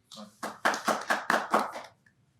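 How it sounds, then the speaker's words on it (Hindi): An audience at a New Year poetry and ghazal gathering claps in about six sharp, evenly spaced bursts, close and fairly loud, ending abruptly into near silence. "एक बार जोरदार तालियां आप सब इनके सम्मान में बजा दीजिए।"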